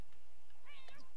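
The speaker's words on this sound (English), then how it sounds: "Cats, oh my god. Kitties, stop fighting." A brief, high meowing yowl from cats fighting in the life-simulation video game The Sims 4, heard over steady game ambience.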